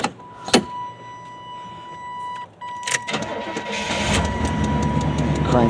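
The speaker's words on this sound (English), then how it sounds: "Cranks right up. The engine's solid on this truck." A 1991 Chevy C1500 pickup truck engine cranking with a warning chime pinging, then catching and settling into a steady idle close by.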